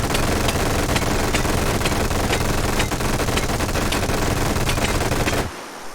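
Dense automatic gunfire in the VR shooter H3VR, rapid overlapping shots with ricochets ringing off a target, loud and continuous for over five seconds before cutting off abruptly.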